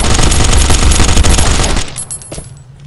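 Rapid automatic gunfire rattles in the video game Last Day Rules Survival, a dense loud burst of overlapping shots lasting nearly two seconds before breaking into a few scattered, fading pops.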